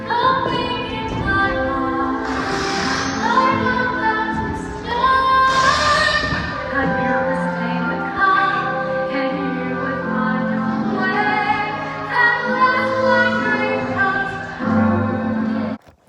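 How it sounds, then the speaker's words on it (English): A clarinet melody plays continuously with sustained, wavering notes and short phrases, moderately loud throughout. "That sound you hear in the background is my mom playing her clarinet"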